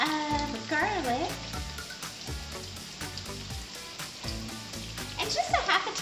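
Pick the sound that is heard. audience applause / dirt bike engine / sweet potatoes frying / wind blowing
sweet potatoes frying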